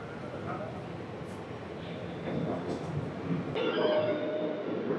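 The 12711 Pinakini Superfast Express rumbles along the track after leaving Ongole station, a faint steady rolling noise inside the coach with a hissing shift near the end and voices faintly underneath.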